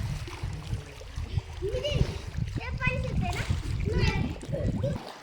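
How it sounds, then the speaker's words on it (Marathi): A person jumps into a water-filled well, producing a splash amid lively voices and shouting from people, including children, that stay prominent throughout. "बिंगून उडी हाणलेली आहे"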